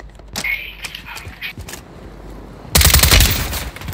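Rapid gunfire bursts in a first-person shooter video game, crackling volleys popping through the first half and a loud dense burst of shots near the end, with no talk heard.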